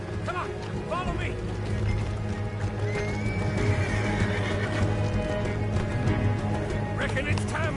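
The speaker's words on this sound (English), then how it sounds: "See the horses? Come on, follow me!" Horses in Red Dead Redemption 2 whinny loudly and their hooves clop continuously against a busy game soundscape, with voices talking over the sounds.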